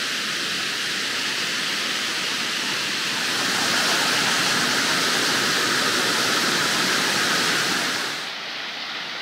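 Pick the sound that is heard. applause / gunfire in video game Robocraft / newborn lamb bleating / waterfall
waterfall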